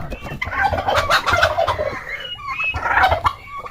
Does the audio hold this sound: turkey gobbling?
yes